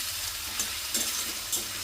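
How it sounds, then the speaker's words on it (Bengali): Garden vegetables fry in hot oil with dried chillies, giving a soft, steady sizzle with a few light stirring scrapes. "সবজিগুলো এখন একটু ভাজা হোক"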